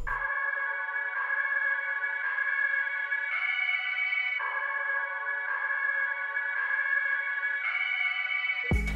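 A sampled synth pad from a TV series, pitched into key, plays as a steady sustained tone that shifts between held chords in a repeating pattern, ending with a sudden low thump.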